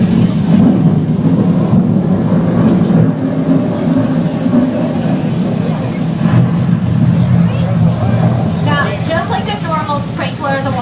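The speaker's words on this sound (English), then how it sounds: "Lightning and thunder." Staged thunder and rain effects at Universal Studios, made with overhead sprinklers, give a steady rumbling, hissing wash of falling water and low thunder throughout, with people talking faintly in the background.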